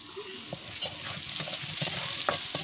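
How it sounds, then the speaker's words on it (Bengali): Potato pieces seasoned with salt and turmeric fry in plenty of hot oil, a steady dense sizzle with occasional stirring clicks and spatula scrapes close by. "অনেক তেলের মধ্যে ভাজা করে নিচ্ছি।"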